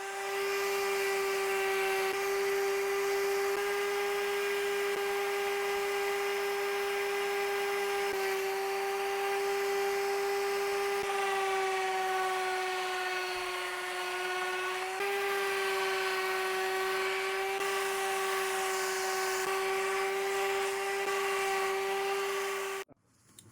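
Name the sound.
power sander sanding barnwood manger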